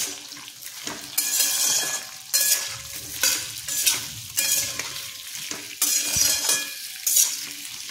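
Salted potato slices frying in a pan, stirred with repeated scraping strokes over a loud steady sizzle, about six bursts at an uneven pace, close and with no voice.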